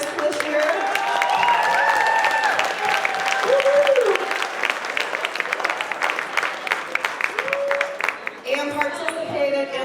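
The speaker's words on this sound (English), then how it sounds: "I want to give another round of applause to all of our contestants that took a risk this year." Audience applause for contestants at a Toastmasters humorous speech competition, sustained crowd clapping with cheering voices and whoops rising over it, loud and close, thinning out toward the end.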